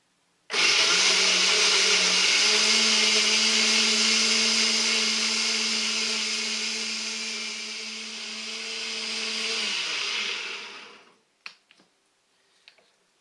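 Electric mixer whirring steadily through beaten eggs for homemade fishing boilies, a loud close motor drone lasting about ten seconds that dips slightly in pitch before winding down, followed by a few clinks.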